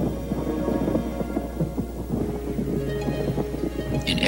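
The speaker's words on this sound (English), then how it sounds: "A storm was gathering off the ocean, shaking the big harbor with deep rumbles of thunder and cracks of lightning." Deep rolling thunder rumbles on and on through a stormy night over an ocean harbor, with a steady wash of rain and wind noise under it.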